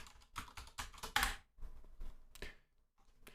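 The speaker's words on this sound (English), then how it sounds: "I'm just typing in something to test it." Typing on a computer keyboard while setting up a Linux installation in a virtual machine: close, crisp bursts of keystrokes in quick uneven runs with short pauses, no voices.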